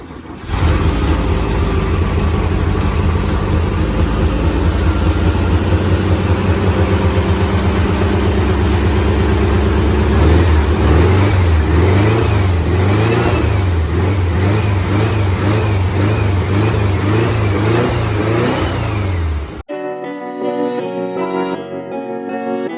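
Engine of a Fummins build truck runs loud and close, idling steadily before a series of rhythmic revs rise and fall, then cuts abruptly to a different, quieter sound at the end.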